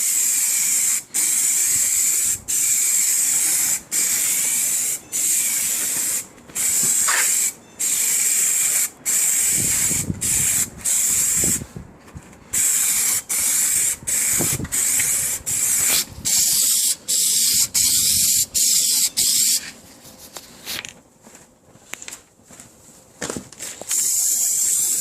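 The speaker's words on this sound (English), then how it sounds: "and then we just start spraying." An aerosol can of Plasti Dip hisses in repeated bursts onto the trim of an MK4 Jetta, short sprays separated by brief pauses, close and loud, with a little rattling and handling noise near the end.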